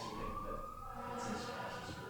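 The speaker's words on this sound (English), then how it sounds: "if they can hear the ambulance driving by." An ambulance siren wails somewhere out on a city street as it drives past, a faint rising tone sitting under a steady background hum.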